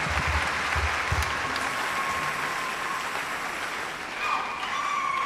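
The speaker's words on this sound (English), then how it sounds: "A round of applause to our newly ordained priest." A church congregation applauds a newly ordained priest during an ordination Mass, steady dense clapping that fills the room for several seconds, with a few brief sounds from the hall.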